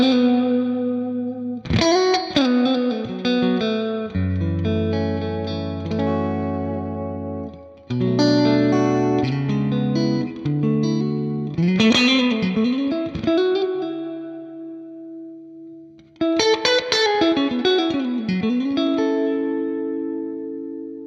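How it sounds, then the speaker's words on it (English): Electric guitar through the Tube Spring reverb of a Valeton GP-200 modeler set for a Fender Twin amp, strummed chords and picked phrases in several bursts, each trailing off in a springy wash with no talking. "reverb called Tube Spring"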